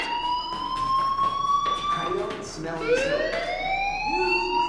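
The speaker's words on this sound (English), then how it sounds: "do you hear that fire alarm?" A fire alarm in the video game Life Is Strange, a loud, continuous electronic siren tone that wails and shifts in pitch throughout, with a voice talking partly over it.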